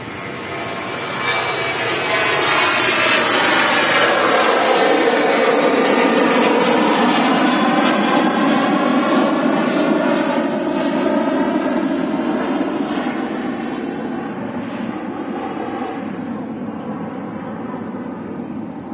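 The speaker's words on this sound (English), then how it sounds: "Sun Express. About to depart here at Manchester. Runway 23 right." A SunExpress airliner departs runway 23 right at Manchester Airport, its engines roaring loud and steady at full take-off thrust for the whole stretch, a broad rushing drone that eases only slightly toward the end.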